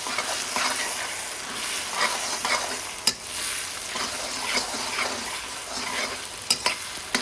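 Softened onions fry in a pan for chicken achari, crackling steadily while a utensil stirs and scrapes them in repeated strokes, with a couple of sharper knocks against the pan.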